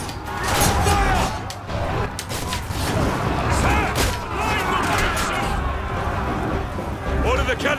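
Volley fire in the video game Ryse, with repeated booming gunfire-like blasts and mechanical clatter in a busy battle mix, heard under someone talking.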